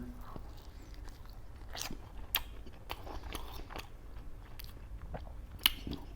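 Chewing and biting on Ethiopian Doro Wot scooped up with injera, soft wet munching with a few sharper crunchy bites, close and fairly quiet.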